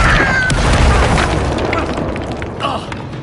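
A Bombarda explosion spell in Hogwarts Legacy going off as a loud, booming blast with crumbling, crashing debris that trails away over a few seconds.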